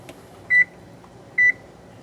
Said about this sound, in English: we'll go ahead and set my timer